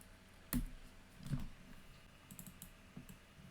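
A few soft, scattered key clicks from a computer keyboard, faint and sparse, with a couple of slightly louder taps near the start and no voice.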